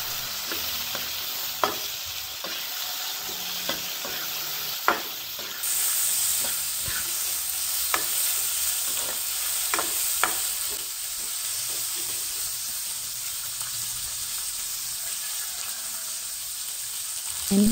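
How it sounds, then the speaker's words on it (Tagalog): String beans sautéed with ginger and onion in a hot pan, a steady sizzle with scattered sharp clicks and scrapes of a spatula stirring, fairly close and moderate, no talking. "igisa natin yung gulay. Unahin natin yung sitaw."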